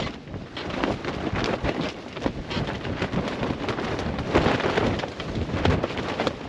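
Strong storm wind, around 40 miles an hour, buffets the microphone with steady broadband roar and rain noise beside a fishing spot, loud and continuous with gusty surges throughout.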